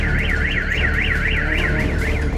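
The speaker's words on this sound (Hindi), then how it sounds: "गाड़ियों के सिक्योरिटी अलार्म बजने लगे हैं।" Several car security alarms blare together after a blast near a residential building in Belgorod, a loud warbling siren sweeping up and down steadily and continuously over low rumbling background noise.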